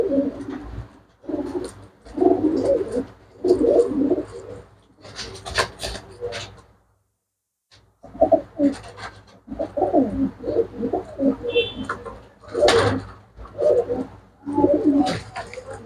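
Pigeons offered for sale coo repeatedly at close range in soft, throaty rolling phrases, some overlapping, broken by a brief pause and by faint handling clicks and background noise.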